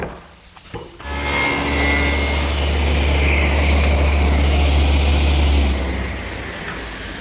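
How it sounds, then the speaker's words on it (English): A table saw blade bevels the top of a wooden piece for a picnic table, the motor spinning up into a loud, steady whining cut for about five seconds before winding down. "what I've actually done here is run the piece through the saw blade to bevel the top"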